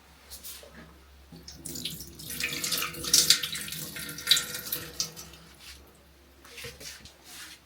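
Cold water runs from a tap into a sink in a home kitchen, a hissing splashing stream that swells and fades over several seconds, fairly close.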